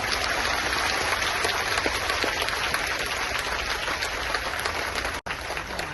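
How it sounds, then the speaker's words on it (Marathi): Audience at a Mumbai protest rally clapping loudly and continuously, a dense roar of many hands with no voices over it. "जरा एका दोन टाळ्या टाळ्याचं वाजून दाखवा"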